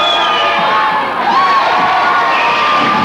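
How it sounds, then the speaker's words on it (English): A home high school basketball crowd in a packed gym, 1988, yells and cheers steadily throughout, a loud continuous roar of mixed shouting voices meant to distract an opposing free-throw shooter. "the Watervliet crowd had a little to say about that as they do a little distraction here on the shooter"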